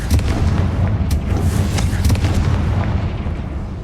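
Confringo explosion spell cast in the game Hogwarts Legacy, a dense rumbling blast with booming low end and crackling bursts, sustained loud throughout without talk.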